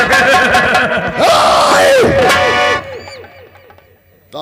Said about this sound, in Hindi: बहुत जोर से हल्ला मचा के, हल्ला मचा के।